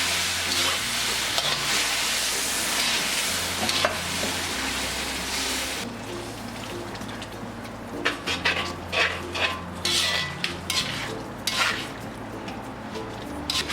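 Boiled and cooled vinegar poured into beef pickle gives a loud rushing hiss at first, then gives way to intermittent scraping and clinking of stirring in the pot, with soft background music.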